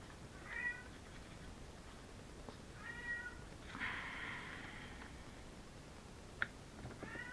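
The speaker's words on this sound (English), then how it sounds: "there goes my cat again" A house cat meows several times in a quiet room, thin drawn-out cries spaced a second or two apart at moderate distance, with a small click near the end.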